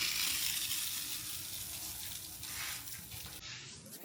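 Lukewarm tap water runs steadily over a curly half wig, a continuous close splashing hiss with slight shifts in flow as fingers work through the wet curls, no talking.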